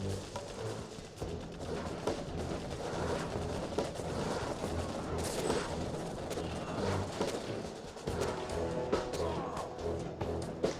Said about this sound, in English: there's a lot of quad cannons here.